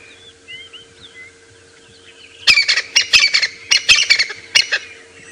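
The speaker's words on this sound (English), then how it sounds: "you can hear the crested francolin" Crested francolin calling at dawn on a safari drive, a loud, harsh rattling chorus of repeated squawking bursts arriving in quick successive phrases after a quieter stretch of faint twittering birdsong.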